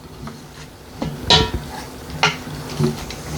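A utensil stirring cooked cabbage and sausage inside an Instant Pot, a few scraping clinks against the metal pot at irregular intervals, close and moderate in level.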